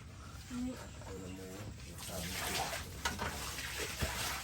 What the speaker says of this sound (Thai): ก็เทน้ำอีกเรื่อยๆ